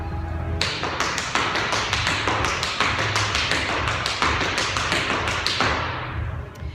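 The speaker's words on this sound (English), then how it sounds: "So from the side, I'll show you what multiple shuffle grab-offs might look like." Tap shoes on a hard floor doing repeated shuffle grab-offs, giving a fast, even stream of crisp metallic taps that fades slightly at the end, with no talking.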